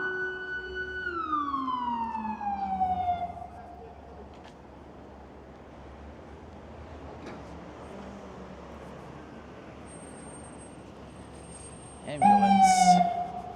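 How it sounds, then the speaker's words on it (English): A wailing ambulance siren sweeps down and fades, then after a lull of street traffic noise in Fort George, New York, a second siren wail bursts in loudly near the end. "Ambulance."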